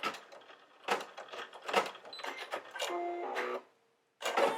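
A Brother SE1900 embroidery machine stitching a flower design on fabric in a magnetic hoop, making close mechanical whirring and rapid ticking with shifting motor tones, stopping briefly before starting up again.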